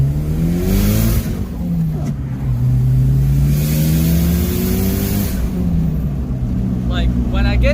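A Mitsubishi Eclipse GSX fitted with a 16G turbo doing a first-gear pull, heard from inside: a loud engine drone climbs in pitch as revs build, dips, climbs again, then falls away near the end.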